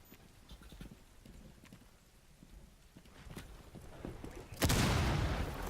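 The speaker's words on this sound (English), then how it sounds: "That explosion happened the same exact time I shot my little silenced pistol at a camera" In Rainbow Six Siege, a loud explosion bursts in near the end after a stretch of soft, scattered game sounds and faint thuds, its roar lingering and sustained; a silenced pistol shot is not separately distinct.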